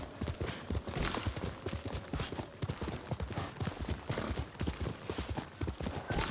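A horse's hooves clip-clop at a steady trotting rhythm, loud and close, in the Ghost of Tsushima video game, with faint ambient background beneath the beats.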